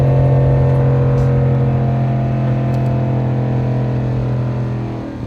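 A Ram 1500 half-ton pickup with the eTorque Hemi V8 drones steadily while towing 10,000 lbs up a steep grade after gearing down. The engine hum is loud and constant in the cab, easing slightly near the end, with no talking.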